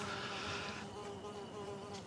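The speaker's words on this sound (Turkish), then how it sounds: "çok mu sinek var ne? Ya bu mahallenin sinekleri yetecek ha." Flies buzz around a table at a neighbourhood meal as a faint, continuous whine that holds steady against a soft background hum.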